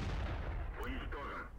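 The Su-85 tank destroyer's main gun booms in World of Tanks, a single heavy low blast with a rumbling tail, a voice talking faintly beneath it.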